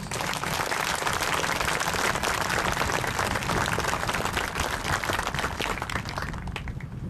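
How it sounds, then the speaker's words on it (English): Sustained audience applause at an outdoor Vietnam memorial ceremony, dense and steady for several seconds before thinning slightly at the end. "Let's give his service a round of applause."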